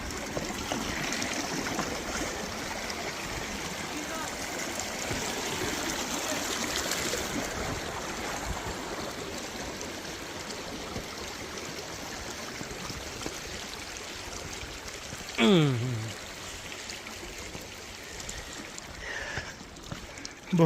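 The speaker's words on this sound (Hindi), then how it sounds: "ये स्पिलवे है, जहाँ से पानी का इखराज" Water streams steadily from a spillway at an outdoor scenic spot, a continuous broadband rush that stays loud and even throughout, with a brief louder splash or knock near the end.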